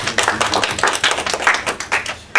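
A church congregation clapping in praise after a sermon announcement, a short burst of irregular, close, fairly loud hand claps from a modest group, uneven in rhythm and cut off abruptly.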